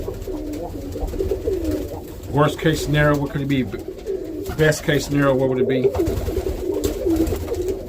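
Roller pigeons coo in a loft, soft repeated throaty calls running underneath someone talking close by.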